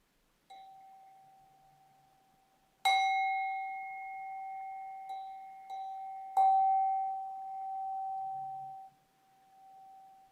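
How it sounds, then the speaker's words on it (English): A meditation bell rings several times to close a practice session, each clear, sustained metallic tone decaying slowly into near silence, alone with no talking. "when you hear the bell, bringing the practice to a close"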